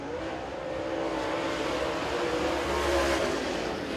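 Super late model race cars lap a speedway in qualifying, a steady, loud engine drone held throughout with a slight swell near the end as the cars pass.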